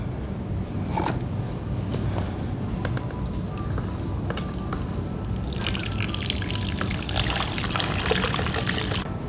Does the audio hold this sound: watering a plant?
yes